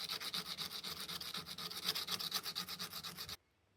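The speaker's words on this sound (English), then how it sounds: "Sand a brad nail to a sharp point for one side of the compass." A small brad nail is sanded to a sharp point, giving a close, steady back-and-forth rasping scrape in quick, even strokes that stops abruptly near the end.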